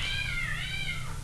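A pet cat meows loudly while playing with a new toy, one drawn-out, wavering cry about a second long, close to the mic over a low steady background hum.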